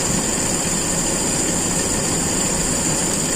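A car engine idles steadily during a PCV valve test, a loud, continuous rumble with a constant hum and no speech over it.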